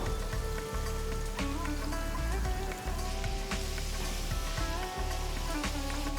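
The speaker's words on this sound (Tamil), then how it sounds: "ஃப்ளேம் மீடியமில் வச்சு சிக்கன் பீசஸை நல்லா வறுக்கணும்" Chicken pieces fry in hot oil over a medium flame, giving a steady, dense sizzle and crackle that holds even and close throughout with no talking.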